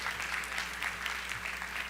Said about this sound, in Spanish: un aplauso por favor a este panel de lujo